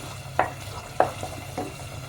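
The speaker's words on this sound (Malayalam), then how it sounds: "ഇതൊന്ന് നന്നായിട്ട് എണ്ണയിലൊന്ന് നന്നായി മൂപ്പിച്ച് വരണം" Onions frying in oil in a pan for mutton paya, with three scrapes of a spoon or spatula stirring them at roughly even intervals over a soft, steady sizzle.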